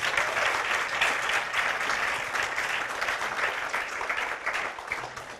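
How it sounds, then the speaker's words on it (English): An evening presentation audience gives presenter Mansfield a round of applause, dense sustained clapping from many hands that stays strong before tapering slightly at the end, with no one speaking over it. "How about another round of applause for Mansfield and his wine?"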